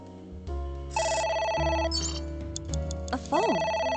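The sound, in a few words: telephone ringing, from video game AI: Somnium Files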